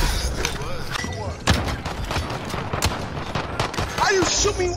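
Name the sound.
gunfire from Warzone video game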